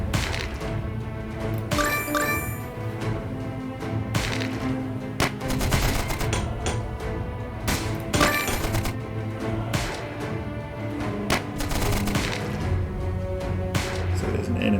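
Sniper fire in the video game Stickman Trenches, sharp gunshot cracks going off at irregular intervals over a steady busy battle background, fairly near and loud.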